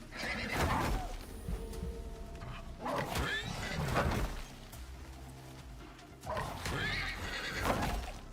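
A horse neighs and whinnies in the survival game Icarus, several loud whinny bursts with hoof clops between, under a voice talking.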